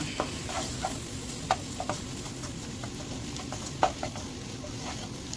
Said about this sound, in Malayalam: 1 സ്പൂൺ മല്ലിപ്പൊടി ഇട്ട് ഒന്ന് വഴറ്റി കൊടുക്കുക.